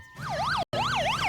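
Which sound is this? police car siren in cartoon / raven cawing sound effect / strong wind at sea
police car siren in cartoon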